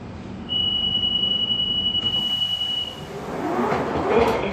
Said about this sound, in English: This is a Central Line train to Hainault via Newbury Park.